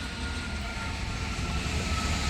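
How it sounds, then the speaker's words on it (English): An airplane passes overhead outdoors, a steady low broadband roar that stays loud and unbroken across the whole stretch, with no speech over it. "I got an airplane coming over me, so if you hear it, it is what it is"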